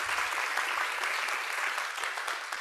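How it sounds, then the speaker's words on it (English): An audience at a live social prescribing show breaks into steady, full applause that fills the space throughout, with no talking over it. "So a round of applause for all of them,"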